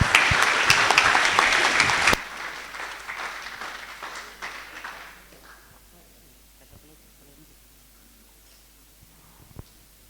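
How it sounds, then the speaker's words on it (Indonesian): Seminar audience applauding a presented group at an occupational safety seminar, loud dense clapping for about two seconds that stops abruptly, followed by fading scattered claps and quiet room noise with some talk. "Tepuk tangan untuk grup 2023."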